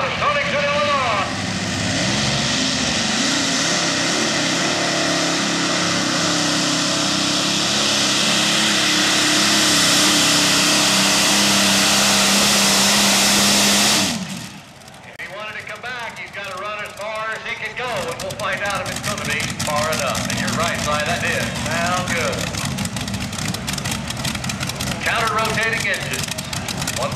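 Modified pulling tractor powered by twin Allison aircraft engines, one turning clockwise and one counterclockwise, roaring loud and steady for about fourteen seconds at a truck and tractor pull, then cutting off to crowd noise and announcer talk.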